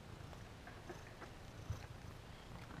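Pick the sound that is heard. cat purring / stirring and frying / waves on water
cat purring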